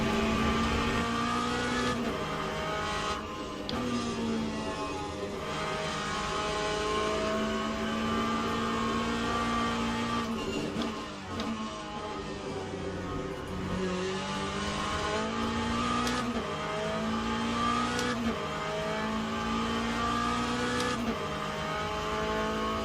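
Hypercar-class race cars lap Fuji in the racing game Le Mans Ultimate, their engines droning continuously and loudly, rising and falling in pitch through gear changes and corners without pause.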